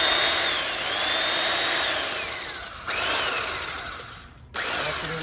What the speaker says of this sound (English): Activating the sandpaper.